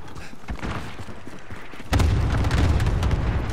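Grenade explosion in a video game: a sudden heavy boom midway that leaves a sustained loud rumble over the busy background noise of the match.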